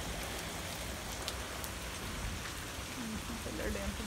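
Steady rain hisses evenly throughout, close and constant, with a faint voice briefly audible beneath it.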